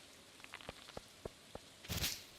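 Green acid rain falls in a farming video game, heard as soft scattered patter with a few distinct droplet taps and a brief louder splashy burst near the end, fairly quiet overall.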